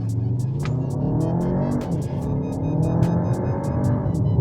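Skoda Kodiaq RS SUV pulling away hard from a traffic signal, a steady, close engine drone with rising harmonic sweeps as it builds speed, accompanied by repeated brief high-pitched ticks.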